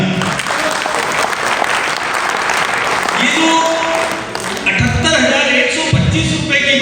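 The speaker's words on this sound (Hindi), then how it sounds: "और जोरदार तालियां" An indoor audience at a company sales presentation applauds loudly, a continuous wash of many hands clapping that carries on for several seconds, with a voice briefly speaking over it.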